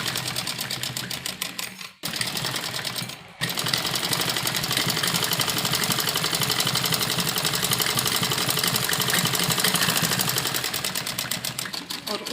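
A sewing machine stitches umbrella frock fabric in fast, even mechanical bursts, running loud and close with two brief pauses early on before a long unbroken run.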